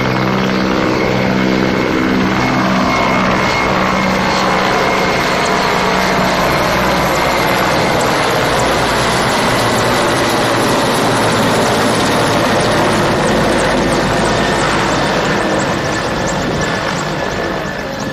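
Mi-8 helicopter engines during an air demonstration at Sea Breeze 2021 in Odesa, a loud continuous rotor and turbine roar that stays steady and close throughout with no talk.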